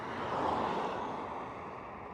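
An aircraft landing and then taxiing at Schiphol airport produces a broad, steady engine roar that swells briefly and then eases slightly, heard at a distance with no voices.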